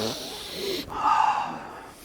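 A person sniffs the Paldeo wood trim inside a GMC Sierra Denali Ultimate truck, with a short inhale and then a longer, louder breathy sniff, close and alone.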